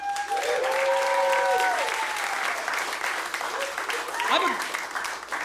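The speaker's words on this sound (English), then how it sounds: "how about a round of applause for all the comics you saw tonight?" Comedy club crowd applauding loudly and continuously, dense clapping filling the room, with cheers and a few whoops rising over the sound, including one near the end.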